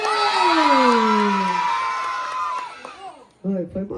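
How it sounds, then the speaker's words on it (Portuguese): People at a resort game cheer with a loud, rising collective whoop that swells and slowly fades, followed by a few shorter excited shouts from children and adults near the end. "Torcida do pai número 4."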